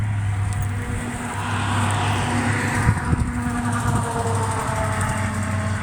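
A vehicle backs a trailer beneath an Amish-built cabin outdoors, its engine holding a steady low idle-like rumble close by through the whole stretch, with a few brief knocks near the middle.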